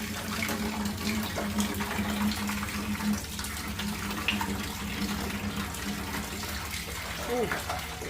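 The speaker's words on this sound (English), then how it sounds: "once we turn this engine over, it's going to probably puke a lot of coolant." Coolant from a 512 ci Mopar big block engine pours steadily into a bucket, a continuous close rushing, splashing flow with an underlying hum that holds throughout.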